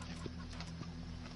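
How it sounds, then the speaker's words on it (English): A robot chicken in the video game Wasteland 3 gives a few quiet, short clucks over a low steady background hum. "It's a robot chicken."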